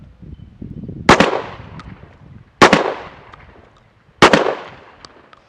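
Three loud, sharp blasts from a Mossberg 930 SPX 12 gauge shotgun, evenly spaced about a second and a half apart, each trailing off in a brief echoing decay outdoors.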